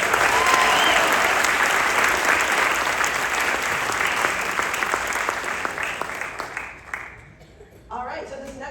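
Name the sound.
audience applause for middle school jazz ensemble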